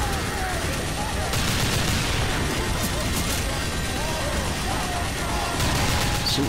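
Gunfire while shooting zombies in the video game TF2 Zombie Escape, a loud, dense, continuous barrage of rapid shots and booms with players talking over it.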